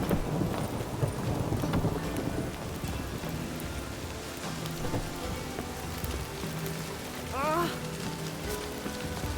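Constant rain patters on surfaces in the video game The Witcher 3, with faint thunder rumbling and a brief whistling gust partway through.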